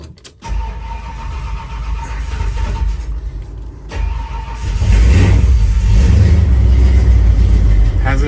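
A 1971 Ford F250 crew cab pickup engine cold starts after sitting for months in a cold garage: the starter cranks briefly, then the engine catches and settles into a loud, steady rumbling idle.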